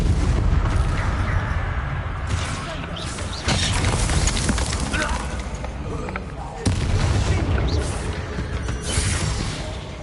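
Confringo blasting spell explosions in the video game Hogwarts Legacy: loud, booming bursts with rumbling tails, one after another over a dense wash of game noise, with a voice shouting over them.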